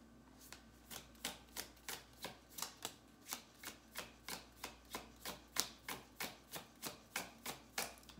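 A tarot card deck shuffled by hand, a quiet, even run of about twenty crisp riffling snaps at a steady rhythm, close and alone with no voices.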